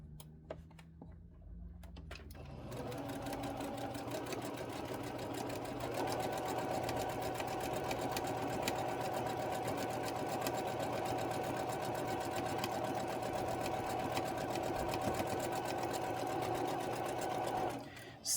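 A sewing machine stitches quilt fabric in a long straight line, starting after a quiet moment and running as a loud, continuous rapid whir close by, with faint voice-like sounds at the start.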